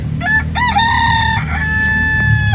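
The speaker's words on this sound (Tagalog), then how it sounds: "Ang daming manok dito." A rooster crows loudly nearby, two drawn-out calls in a row, with other chickens clucking faintly in the background on a farm.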